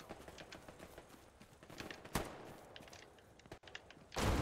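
Gunfire in the World War II shooter game Hell Let Loose, a steady patter of rapid shots through the whole span with a sharp loud crack near the middle and a heavy burst at the end.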